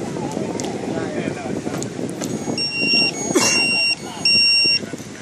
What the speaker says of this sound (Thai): ที่ได้ยินเสียงนี่คือเสียงที่รีโมทนะครับ